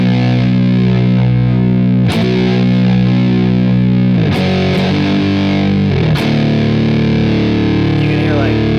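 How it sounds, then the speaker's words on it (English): A Matamp GT1 guitar amp turned all the way up, its cranked power stage giving thick, saturated distortion as sustained chords ring loudly and are restruck a few times. "You can hear like I think that's power amp distortion."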